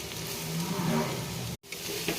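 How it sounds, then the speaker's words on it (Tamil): Carrots sautéing in ghee for carrot halwa, a steady soft sizzle close by that cuts out briefly and then resumes, with no voices. "கேரட்டை போட்டு நல்லா வதக்கிடுங்க நெய்யில்"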